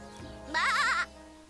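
A sheep in the Divinity: Original Sin Enhanced Edition video game gives one short, wavering bleat, loud and close, over a quiet game background.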